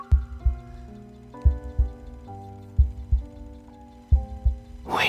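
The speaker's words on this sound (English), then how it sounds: "All I hear now is Caleb's heartbeat, and then it slowly fades into the distance." Slow, heavy heartbeats thump in pairs in the romance video game Love and Deepspace, loud and close, set against sustained soft synth tones that shift in pitch.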